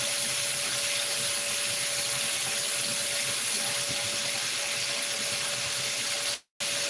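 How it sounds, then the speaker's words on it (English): Tap water runs steadily over hands at a sink, a continuous broadband rush with a faint tonal hum, close and loud, stopping abruptly near the end. "I'm over here washing my hands."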